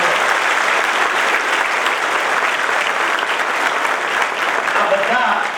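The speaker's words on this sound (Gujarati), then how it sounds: "અહીંયા બેઠા બેઠા એકવાર તાળી પાડો" A large seminar hall audience at a GPSC exam-preparation event claps in sustained, dense applause, loud and even from start to finish, with no breaks.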